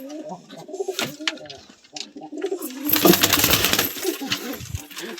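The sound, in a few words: pigeons cooing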